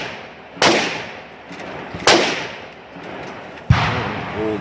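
Three sharp handgun shots from a .45 pistol loaded with mixed ammunition, steel-cased and Remington rounds, crack out about a second and a half apart, each ringing briefly into the open air.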